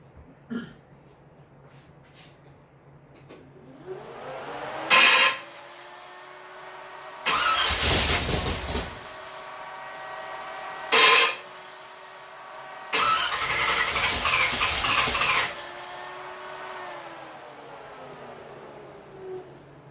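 A 1977 Chevy Camaro engine cranking and firing: a whining starter groan, then several loud bursts of revving, with a rough idle running between them.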